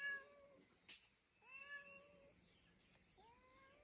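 A cat meows several times, drawn-out plaintive calls with pauses between, over a constant high-pitched insect-like whine in the background.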